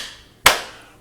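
A single sharp, loud clap stands alone in a quiet room, ringing briefly as it decays.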